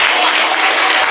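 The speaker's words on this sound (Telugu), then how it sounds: "ఈసారి గట్టిగా చప్పట్లు కొడుతూ స్తోత్రం చెప్పండి" A worship congregation at a Sunday church service claps hard in unison, a dense, loud, steady wash of hand claps filling the whole moment with no voices.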